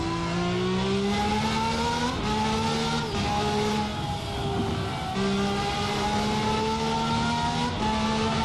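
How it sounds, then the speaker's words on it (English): A simulated V12 race car engine in a sim racing game revs hard and repeatedly, with its pitch climbing and then dropping at each gear shift, loud and close throughout with no voices. "the sound of the V12 is fantastic"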